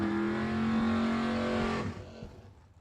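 Drag racing cars, a Ford Mustang and a Chevette, roar loudly with a sustained high engine drone for nearly two seconds, then the sound drops off and fades as the cars pull away.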